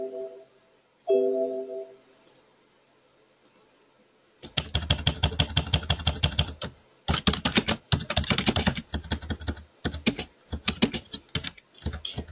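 Rapid typing on a new computer keyboard, a dense run of close, crisp key clicks with short pauses between bursts, following a quiet stretch with a few soft tones.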